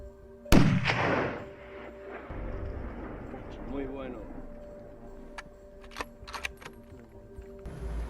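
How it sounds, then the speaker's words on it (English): A single loud rifle shot rings out while hunting Balearic Boc goats in rugged hillside terrain near Formentor, its sharp crack followed by a rolling echo that fades, with quiet outdoor background afterward and voices present. "makes a perfect shot, taking down her second Balearian Boc trophy"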